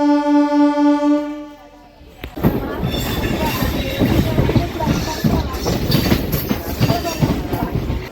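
A MEMU commuter train rolls along the rails with a steady rumble and rattling clatter after a brief tonal hum at the start, loud and continuous as if heard from inside the carriage.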